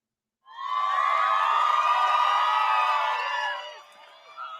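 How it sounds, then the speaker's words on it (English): A crowd at an American football game, the Chiefs beating the Giants 20-17, roars and cheers loudly with whoops for about three seconds before the noise drops away to a lower murmur. "Deserving a round of applause for them."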